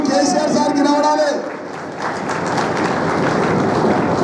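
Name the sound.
crowd applause at a public meeting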